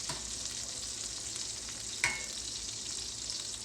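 Fish fries in hot oil with a steady, bright sizzle and hiss throughout, one brief louder pop near the middle, and no voices.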